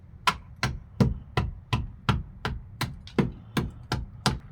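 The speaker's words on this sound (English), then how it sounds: "I suppose a hammer test." A hammer taps the rusty metal body of a Vauxhall Vectra B at an old repair about twelve times in a steady rhythm, each strike sharp and close with a slightly hollow ring.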